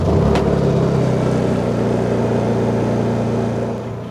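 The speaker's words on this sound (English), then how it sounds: "The Honda is now running, and at this distance, we're at 64 decibels, which is quieter than me talking." A Honda gas generator runs at idle, a steady, low, throbbing engine drone heard from a short distance that holds even for several seconds and then drops away at the end.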